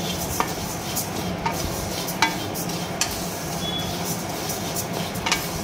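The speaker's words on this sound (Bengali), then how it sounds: "সোনামুগ ডালটা ভালো করে ভেজে দিচ্ছি" Sonamoog dal being fried in a pan: a steady close sizzle with occasional scraping clicks of stirring, continuous throughout.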